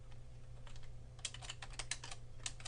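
Computer keyboard typing of HTML for a web page, a quick irregular run of clicky keystrokes over a steady low hum, growing busier toward the end, with no voices.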